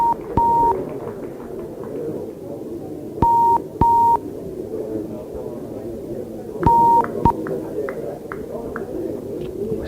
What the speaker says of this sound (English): Just hearing a few beeps.